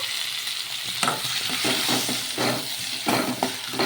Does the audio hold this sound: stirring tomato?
yes